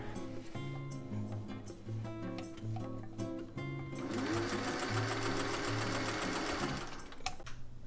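Sewing machine stitching down a trimmed seam allowance while making a winter beret, a close, steady whirring hum with rhythmic needle pulses, rising to a faster, brighter run partway through before slowing to a stop.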